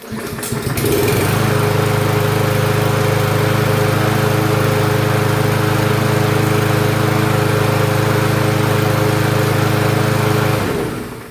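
A Yard Machines push lawn mower engine catches on a pull start and settles into a loud, steady running drone that holds for about ten seconds before cutting off abruptly, with no voices.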